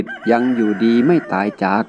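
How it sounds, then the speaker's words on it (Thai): Expensive fighting roosters kept caged under wicker baskets crow again and again, loud and close, several long crows in quick succession while a voice speaks briefly. "เสียงไก่ชนราคาแพงที่แกขังไว้ในสุ่มพวกมันโก่งคอขันสลับกับ"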